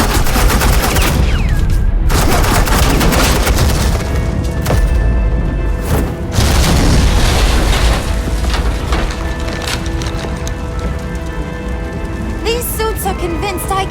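Sustained suppressing fire in Batman: The Enemy Within, a dense unbroken clatter of automatic gunfire that roars almost without pause and sounds rain-like, loud and close, with brief bursts of talk faintly beneath it.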